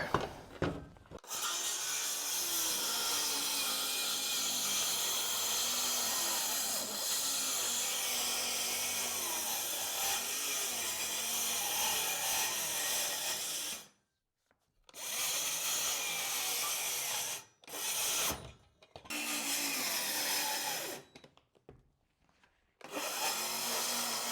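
A DeWalt power saw fitted with a new blade cuts wood during a farmhouse renovation, running loud and steady for long stretches, stopping briefly, then resuming in shorter bursts, close by and with no talk.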